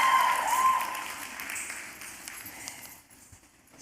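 Applause at a Bharatanatyam arangetram dance recital, a broad wash of clapping that starts fairly loud and slowly thins and fades over a few seconds.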